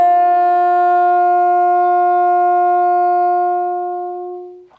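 A saxophone holds a high D played with the octave key, a clear, close sustained tone that fades gradually over about four seconds before stopping.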